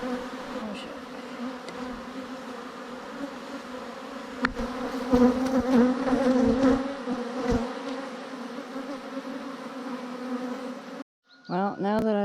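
Angry honeybees from a swarmed backyard hive buzz loudly and steadily close by as a dense, droning swarm, then cut off abruptly near the end, followed by a brief burst of voice.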